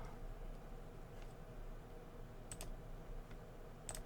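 A few sharp, faint computer mouse clicks, two quick pairs a second or so apart, over a quiet hiss of room noise with no speech.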